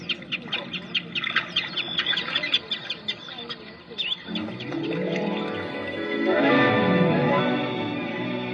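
Ruffs and other water birds call at sunset, with a busy stretch of rapid chirps and squabbling notes giving way to a rising, swelling wash of bird sound.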